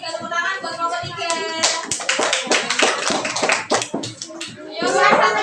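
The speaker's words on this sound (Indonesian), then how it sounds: "Tepuk tangan buat kelompok 3." A classroom of students claps for group 3 during a lesson: a burst of quick, overlapping hand claps starts partway in and runs on, mixed with children's chatter and voices before and after.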